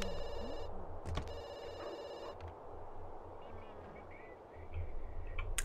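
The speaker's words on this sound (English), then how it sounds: "Let's answer the phone." A telephone rings in a video game with bursts of bright electronic bell tones, a couple of rings with a short pause between, over soft background music.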